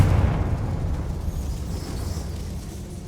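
A Confringo spell explosion in Hogwarts Legacy booms loudly and close, then keeps up a heavy, low rumble for the rest of the moment.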